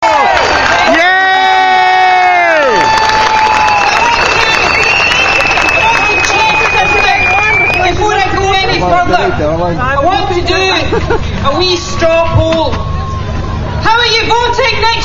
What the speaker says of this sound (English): standing here looking out at this fabulous, fantastic crowd of people